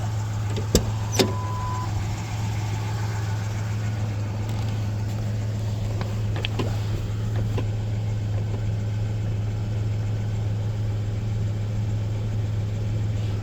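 A Ford Ranger with a swapped PowerTorque engine idles after its loose header bolts were tightened, a steady low hum with a couple of faint clicks early on, alone without talk.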